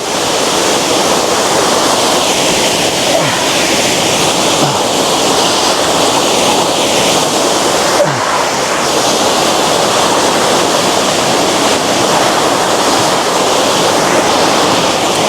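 A hidden mountain waterfall roars continuously, a dense rushing wash of falling water heard up close and loud for the whole stretch, with no voices over it.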